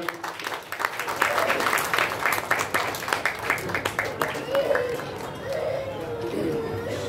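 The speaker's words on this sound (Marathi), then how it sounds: "जोरदार टाळ्या होऊ द्या." An audience at an anniversary stage event of a Sangameshwar arts trust bursts into sustained clapping, dense and lively at first, then thinning out as crowd chatter and voices continue underneath.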